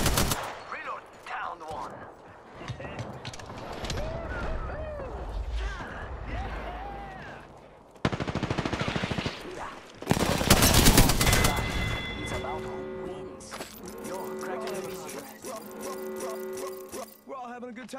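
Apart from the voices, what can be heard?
gunfire in a video game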